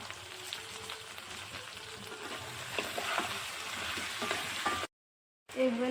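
Food frying in a pan with salt and turmeric gives a steady, close crackling sizzle with light stirring scrapes. A short silent gap comes near the end.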